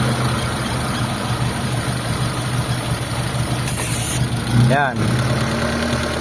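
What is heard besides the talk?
Mitsubishi Lancer GLXi engine idling with vacuum hose pulled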